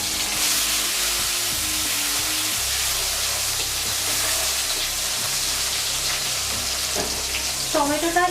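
Chopped tomato hitting hot mustard oil with bay leaf and dried chilli, a loud bright sizzle that stays steady, with a few utensil clinks near the end.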